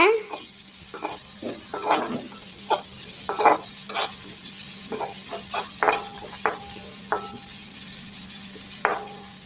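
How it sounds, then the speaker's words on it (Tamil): Onions and carrots sauté in a pan with repeated stirring scrapes, steady frying hiss underneath and irregular clinks of a utensil against the pan. "நல்லா வதக்கி விடுங்க"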